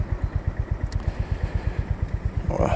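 A 2025 Honda GB350S motorcycle idles close by with a steady, even thumping beat and a faint mechanical click as it is shifted into neutral, heard alone without talk.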